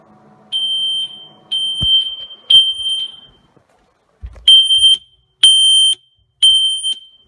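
A SimpliSafe home security system sounds its alarm during a test, giving a series of loud, piercing electronic beeps, each about half a second long, in an irregular rhythm, with brief handling clunks between them.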